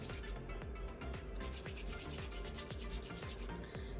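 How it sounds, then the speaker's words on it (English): Hands rubbing together over hair wrapped around soft locs, a steady close dry rubbing and brushing texture with repeated strokes, continuing alone without talk. "you just rub your hands together"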